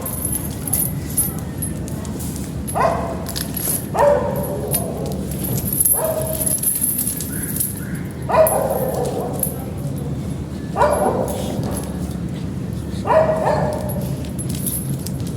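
A stray dog barks repeatedly, about six separate barks spaced a second or two apart, over steady background noise with faint voices.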